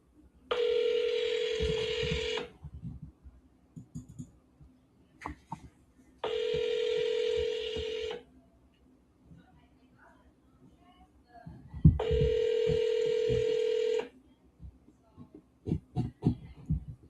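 Three long, steady electronic telephone tones come from a phone call being placed, each lasting about two seconds with gaps between them, over low background noise and faint clicks.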